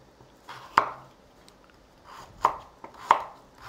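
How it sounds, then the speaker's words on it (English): A knife cutting carrot into small cubes on a board, three or four sharp close chops at uneven intervals with quiet pauses between. "I'm going to cut the carrot the same size as the potatoes"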